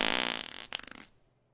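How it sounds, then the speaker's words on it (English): A loud fart sound effect rips close up as a fast rattling buzz that slows and sputters before trailing off after about a second. "Hold on, we got a big fart here."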